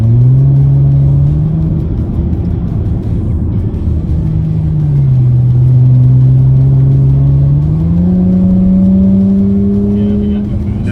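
An Audi B9 S5 with a hybrid turbo, running with no boost because of a suspected throttle body hose fault, drones loud and close from inside, its engine note rising and falling as it drives.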